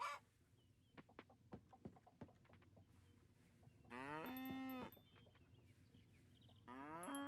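Cows in the farming game Coral Island moo in two long, drawn-out lows, with scattered soft clucks and light farmyard ambience between them.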